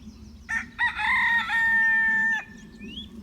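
A rooster crows once, loud and close, a long drawn-out cock-a-doodle-doo over a low background rumble.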